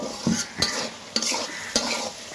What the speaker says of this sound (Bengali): মাংস কষানোটাই আপনারা দেখেন।